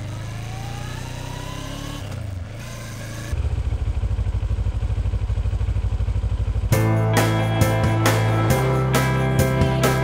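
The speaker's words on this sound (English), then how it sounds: "we meet up with Jim on something called a Harley Davidson." A Harley-Davidson motorcycle rides on a motorway, its loud steady engine rumble building as the bike accelerates, with a brief dip before the throttle opens and a rhythmic pulsing drone near the end.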